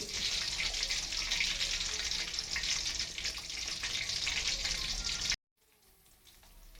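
Garlic and curry leaves sizzle in hot oil in a pan for a home-style fish curry, a steady loud frying hiss throughout that cuts off abruptly near the end, leaving only a faint residual sizzle.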